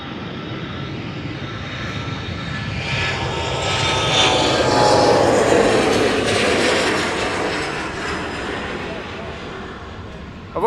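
An Emirates Airbus A380 at Amsterdam Schiphol Airport, a loud, sustained jet engine roar that swells toward the middle and then slowly fades, heard from a distance.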